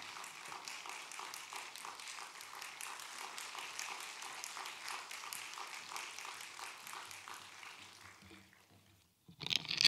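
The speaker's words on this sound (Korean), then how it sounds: "나오실 때 우리 큰 박수로 환영하도록 하겠습니다" A church audience gives a warm round of applause to welcome a speaker, dense clapping at moderate distance that fades out before a sharp noise at the end.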